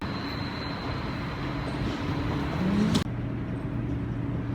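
Steady rumble and rattle of an ICE train in motion heard from inside a carriage, with a brief clunk partway through.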